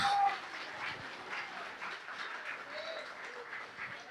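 Clapping from a congregation at a Portuguese-language church service, moderately loud and slightly uneven, a short brighter tone near the start and scattered faint noises under the continuous patter.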